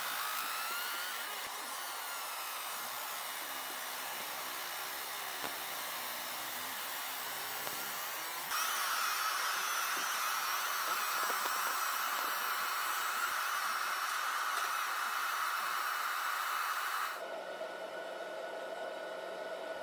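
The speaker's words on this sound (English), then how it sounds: "set up an image of my logo and some text for 3D engraving into a piece of aluminum" A ComMarker B4 fiber laser 3D-engraves a logo and text into a piece of aluminum, giving a steady, airy whir that is mostly hiss with no talk.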